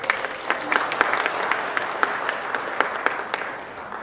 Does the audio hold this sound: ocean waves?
no